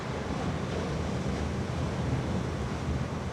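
Powerful wind gusts roar without pause along a waterfront walkway in winds near 120 km/h, with loud, broad, rumbling buffeting on the microphone throughout.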